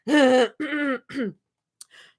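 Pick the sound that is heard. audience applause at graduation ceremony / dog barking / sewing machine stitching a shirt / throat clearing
throat clearing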